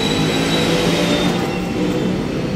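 Inside a moving LRT light rail train, a loud, steady rumble of wheels and cabin noise runs continuously with no pauses, close and enveloping.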